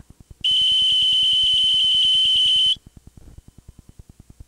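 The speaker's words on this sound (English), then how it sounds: "On all models, the stoppage of the feed roll mechanism sounds an alarm." A John Deere Iron Guard metal detection alarm sounding a loud steady high-pitched tone for about two seconds, over a rhythmic mechanical ticking that continues before and after.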